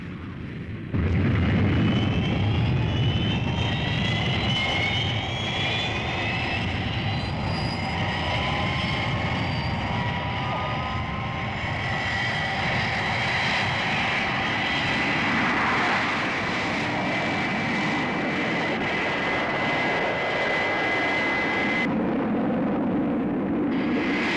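Jet engines of the Fireflash airliner from Thunderbirds roar at full takeoff power, a loud sustained whine and rumble with rising tones that holds steady for the whole stretch, then drops off abruptly at the end.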